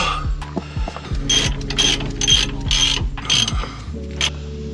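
Ratchet wrench tightening a new, stiff heavy-duty tie rod end bolt, with repeated close, loud clicking strokes in quick bursts, about five or six pulls, and no talking.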